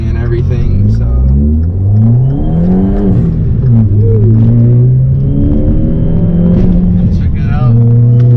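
A 2013 Mopar Dodge Dart 496/500 accelerates on a highway, its mid-pitched engine rising steadily and loud up close inside the cabin, with a voice talking over it.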